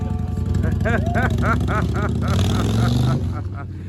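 A motorcycle pulls away carrying a passenger, its engine droning steadily and close under voices and a whoop, with the revs rising toward the end.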